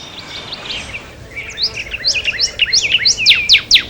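A northern cardinal sings a run of clear, repeated whistled notes, each one a sharp downward-sweeping slur. The song is close and strong over faint background hiss, with a softer warbling phrase before it.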